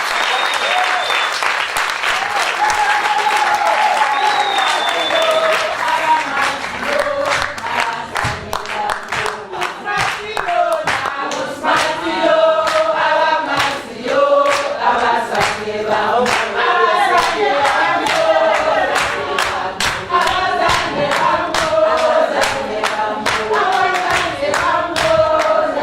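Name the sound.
audience applause, clapping hands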